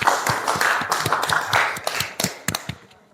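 A school class claps for a classmate, a short burst of distinct, fairly close hand claps at an irregular quick rhythm that gradually thins out.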